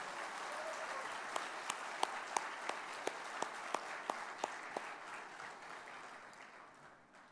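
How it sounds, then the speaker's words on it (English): An audience at an alumni club inaugural event applauds a man named Vipul, broad crowd clapping with a few crisp, prominent claps in a loose rhythm, gradually fading toward the end. "Guys, he needs a bigger round of applause."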